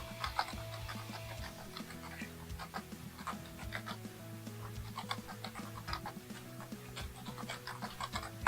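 Puppies panting in quick, steady breaths close by, with a soft ticking and light background noise, almost no talking.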